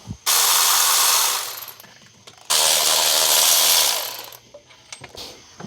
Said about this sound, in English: Now I use my electric ratchet to get them out.